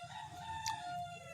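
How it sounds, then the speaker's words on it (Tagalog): A chicken crows once, fairly faint and somewhat distant, over a low steady background hum. "Ito po manok ko."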